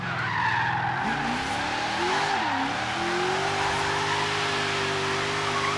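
A Ford Falcon XR8 drifts in Forza Horizon 3, its tires squealing in a long continuous screech over the steady engine drone, close and loud, with the pitch bending as the slide shifts and no voices over it.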